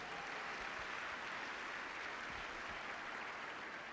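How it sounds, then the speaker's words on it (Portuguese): A church congregation applauds Jesus in steady, dense clapping that stays even and fairly distant for a few seconds. "Dá um aplauso aí a Jesus."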